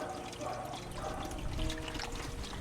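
Water pours and trickles steadily into a container to replace the soaking water for tough food being softened at a farm hut, a continuous close splashing flow over a low background hum.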